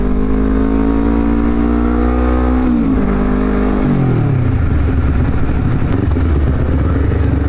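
A Honda CBR250RR motorcycle engine revs hard and loud nearby, its pitch climbing then stepping down through gear changes before settling into a rough, steady drone, with no voices over it.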